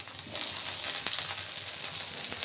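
Boiled new potatoes, salted and peeled, frying in hot oil for a vegetable tarka, giving a steady, moderately loud sizzle and crackle throughout with occasional sharper pops and no voices.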